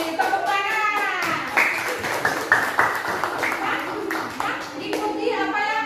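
A classroom of children claps on a teacher's cue, a run of sharp, fairly close hand claps in loose bursts, mixed with young voices chanting and talking over them.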